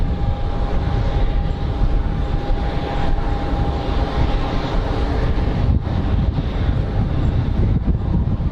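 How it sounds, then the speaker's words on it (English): Cold wind at Geneva Airport buffets the microphone as a loud, continuous low rumble that stays steady throughout, with no talking. "Damn, that's a cold wind."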